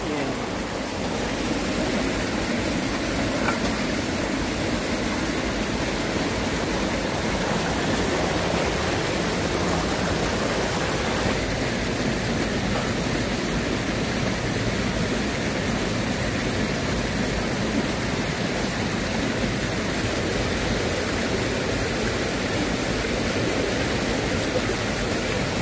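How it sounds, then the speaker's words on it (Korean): Heavy rain pours down in a steady, dense hiss that stays even and unbroken throughout, with no voices heard. "비가 많이 오는데."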